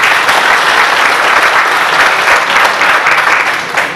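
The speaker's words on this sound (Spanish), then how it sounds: "por el ingeniero Valencia Zambrano, a quien le pido un fuerte aplauso" An audience at a public ceremony for land titles breaks into strong, loud applause, many hands clapping densely and continuously before tapering slightly at the end.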